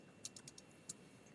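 A few quiet keystrokes tap on a computer keyboard, short irregular clicks at close range against a soft room hush.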